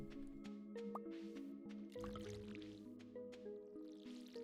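Crops watered in the Stardew Valley video game give soft, wet squishing and dripping splashes that repeat at a steady pace. Game music plays underneath.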